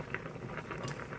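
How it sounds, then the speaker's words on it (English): Pasta noodles for boxed Hy-Vee mac and cheese boiling in a pot on a home stove, a steady close bubbling patter that runs the whole time with no talk over it. "And there's the noodles boiling."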